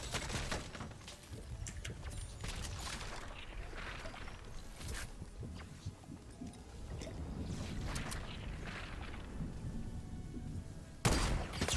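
Sniper rifle shots in the Fortnite video game, several sharp cracks heard among dense, busy game noise, with a loud burst near the end.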